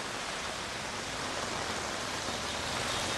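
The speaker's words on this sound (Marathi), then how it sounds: "अमरावती शहरामध्ये तासाभरापासून जोरदार पाऊस सुरू आहे" Heavy rain pouring down in the city of Amravati, a dense, even hiss of downpour filling the scene steadily and loudly, with no voices.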